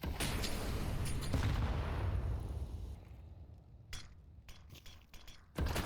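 Grenade blasts in Counter-Strike on Mirage boom loudly in a dense, sustained roar that slowly decays, followed by several sharp bursts and a final loud hit, with no voices.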